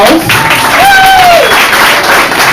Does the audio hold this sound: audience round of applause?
yes